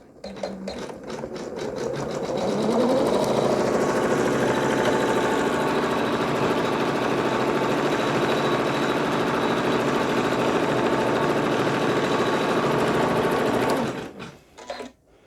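An embroidery machine stitches a quilt design, running a fast, steady mechanical whir that ramps up in the first seconds, holds loud and even, then stops abruptly near the end with a few clicks.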